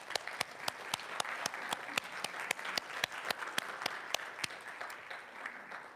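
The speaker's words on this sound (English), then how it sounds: "Let's give Jim a round of applause." Applause for Jim at a spiritual gathering, heard as distinct, fairly quiet claps with a steady rhythm, likely from a small group or a few people, thin and somewhat distant.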